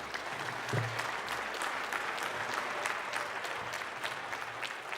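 Parliament members applaud a departing deputy in the chamber, a steady, fairly distant wash of clapping from many hands that holds evenly throughout.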